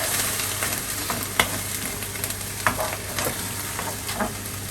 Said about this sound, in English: Give that good stir around.